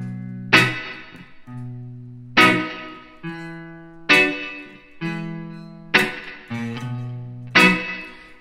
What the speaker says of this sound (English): the first three bars in a 12-bar blues sounds like this